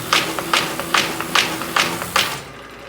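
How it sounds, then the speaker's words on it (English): A 714XLT paper folder runs a half fold with perforation, giving a steady mechanical hum with regular sharp tapping thumps about every 0.4 seconds, loud and close, before fading at the end. "Start the folder."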